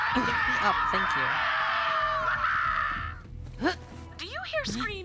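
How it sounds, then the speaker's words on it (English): Shrieking, wailing creature voices in the video game Borderlands 3, a dense chorus of screams for the first three seconds, then scattered sharp rising cries over a low rumbling game ambience. "Do you hear screaming, or am I having another one of my episodes?"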